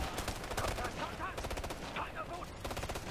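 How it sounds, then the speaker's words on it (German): Enemy gunfire in Ghost Recon Future Soldier, sustained rapid automatic bursts at moderate distance, with voices underneath. "Oh, da schießt er schon auf uns hier."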